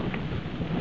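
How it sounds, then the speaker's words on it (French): Strong wind gusts buffet a mountain summit at about 3144 m on a ski-touring bivouac, a steady rumbling roar of wind over the microphone. "Il y a toujours des rafales de vent."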